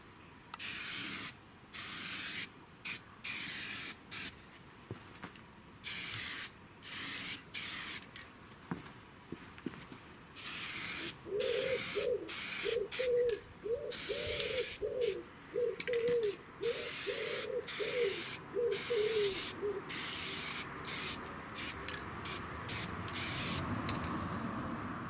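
Spray paint hissing in light coats over rusty metal garden chairs outdoors, short repeated bursts of close, sharp spray separated by brief pauses, with a soft rattling rhythm in the middle.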